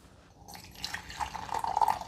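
Hot coffee pours from the glass carafe of a Mr. Coffee Perfect Brew Intelligent Coffee Maker into a cup, a thin trickling stream that starts quietly and grows steadier and fuller over about two seconds, with no talk.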